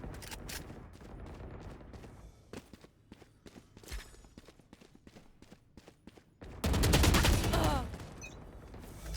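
Gunfire in Valorant, heard as rapid bursts of sharp clicky shots and scattered single rounds. A louder, sustained volley comes near the end, with light footsteps between shots and almost no talking.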